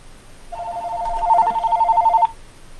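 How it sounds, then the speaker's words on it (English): A telephone rings with a steady, warbling electronic trill lasting under two seconds, clear and close against a quiet room background, with no talking. "And I have a phone call."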